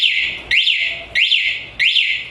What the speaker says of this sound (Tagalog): nagbibigay siya ng ilang beses na warning o mga beep.